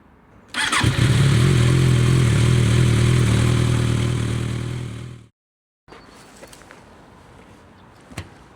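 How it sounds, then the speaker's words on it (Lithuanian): A Suzuki GSX motorcycle engine fires up close and loud, running with a steady rough roar and revving for several seconds before cutting off abruptly, leaving quiet ambient noise and a faint click. "Naujas motociklas. Suzuki."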